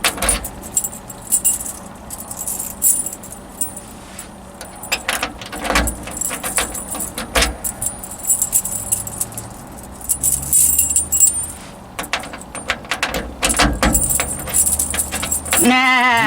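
Keys jangle repeatedly, loud and close, while someone tries one key after another to start a Cummins-powered Mega Cab pickup truck, with brief clinks and rattles throughout and a faint voice near the end.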